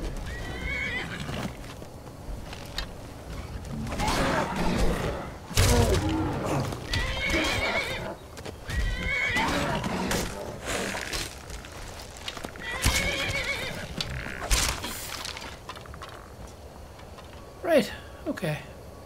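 A horse in the Skyrim video game neighs and whinnies loudly several times, with clip-clopping hooves and combat noises between the calls.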